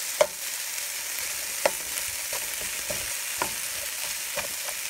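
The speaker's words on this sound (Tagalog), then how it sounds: "Lalagay ko na rin yung mackerel. Igisa po natin." Mackerel sautés in a pan with egg, pepper and salt for tortang mackerel, giving a soft continuous sizzle broken by several sharp spatula scrapes and taps at irregular intervals.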